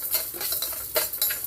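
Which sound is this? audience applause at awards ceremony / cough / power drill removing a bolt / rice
rice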